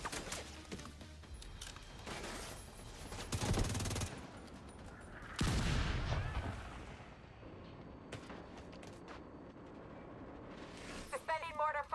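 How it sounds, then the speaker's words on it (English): Mortar rounds firing in a video game, heavy booming bursts that come in a couple of loud clusters between quieter stretches, with a voice talking at points. "Mortar firing, Corporal."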